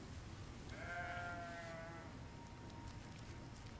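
Sheep bleat in the survival video game Surviving the Aftermath, one clear drawn-out bleat standing alone over a steady background hum.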